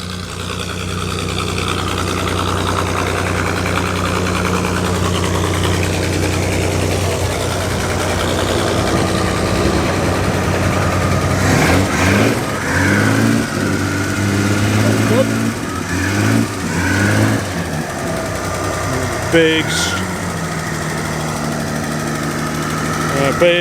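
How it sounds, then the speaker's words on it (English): A pre-war Hudson racing car with a big side-valve engine fires up at the VSCC Vintage Prescott hillclimb, settling into a loud, steady idle with a few revving bursts midway while a commentator talks over it. "The mighty Hudson has just fired up."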